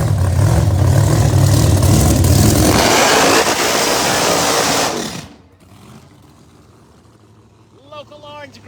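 Abbott Racing Z28 pro mod drag car roaring past at a drag strip, a loud close engine blast that cuts off abruptly after about five seconds, followed by quieter background noise and a voice speaking at the end.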